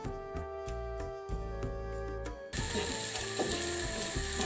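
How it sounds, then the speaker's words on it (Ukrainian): Onion frying in oil in a pan, a loud, steady hiss that takes over after a couple of seconds, with a humming mechanical tone running underneath. "смажимо цибулю до м'якості."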